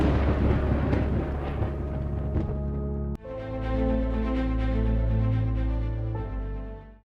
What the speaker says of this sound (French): on entendrait beaucoup de vent venant des tempêtes violentes et parfois aussi des orages surpuissants